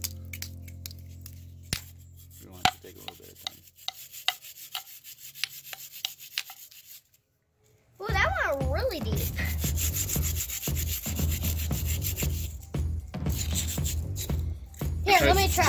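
Steady, loud scraping and sawing against a plaster dig-it treasure block, continuous rough rubbing close by, briefly pausing before resuming harder, with people talking over it.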